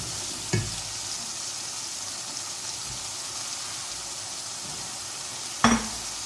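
Masala for aloo tahari frying in a pan, a close, even sizzle running throughout with two brief utensil knocks near the start and end, no talking.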